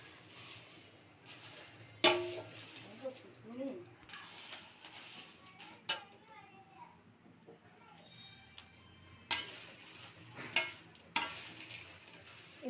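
Kashmiri chillies and spices for sambar powder dry-roast in a pan, with intermittent dry scraping and rattling stir strokes, fairly faint, while a voice speaks at times.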